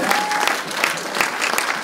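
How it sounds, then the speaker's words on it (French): A church congregation applauds during a service, a brief burst of crowd clapping with a few sharper claps standing out near the front. "on peut applaudir le Seigneur Jésus-Christ"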